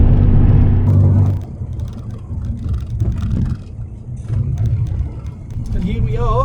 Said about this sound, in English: we'll soon be driving into Vosper's, and let's see where they want to put this old Capri